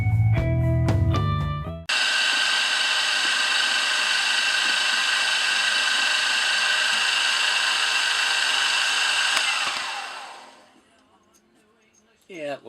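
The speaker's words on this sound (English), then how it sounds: "I'll come back after we drill that with a 1/16 of an inch hole." A drill steadily cuts a 1/16 inch oil hole in metal for a twin vertical wobbler engine column, a loud sustained whine running about eight seconds before spinning down to quiet.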